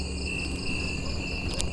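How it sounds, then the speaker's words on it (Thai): Crickets chirping steadily among chili plants and banana trees at a rural field hut at night, a continuous high trill with several close, overlapping insects and no voices. "นี่ครับจิ้งหรีด"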